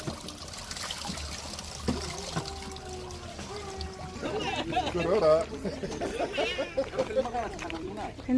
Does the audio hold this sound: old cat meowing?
no